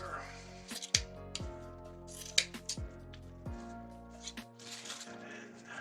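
Scissors cut the stems of artificial florals for a spring grapevine wreath in several sharp, close snips spaced a second or so apart, over soft background music.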